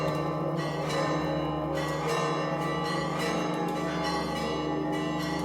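Church bells ringing continuously in the Holy Land, a dense sustained wash of overlapping tolls with ringing overtones, fairly loud and steady throughout.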